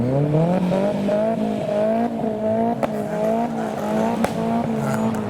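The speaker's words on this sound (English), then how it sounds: "Lovely turbo flutters and traffic." Modified cars at a Japanese car meet, including an S15, rev and accelerate through traffic with rising and falling engine tones, close and loud, punctuated by sharp brief bursts that could be turbo flutters.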